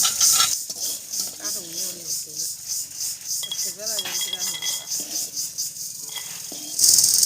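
Fried lentil dumplings (bori) being lifted out of hot oil in a pan, with scraping and clinking of a metal utensil against the pan and a soft sizzle underneath, while someone talks throughout.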